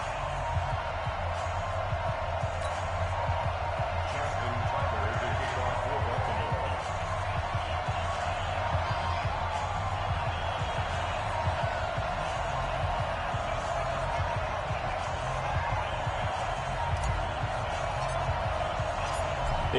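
Steady stadium crowd roar fills a simulated NFL game between the Cleveland Browns and Baltimore Ravens in Week 15, a constant broad wash of voices throughout with low crowd murmur and occasional faint thumps.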